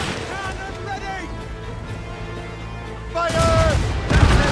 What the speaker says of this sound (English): Cannon ready!